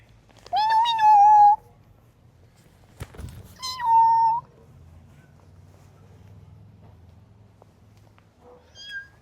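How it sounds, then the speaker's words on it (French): Cat meowing outdoors on a street in Seine-Saint-Denis, two loud drawn-out meows a few seconds apart and a short faint one near the end, over quiet low background hum. "Attention, il y a un chat."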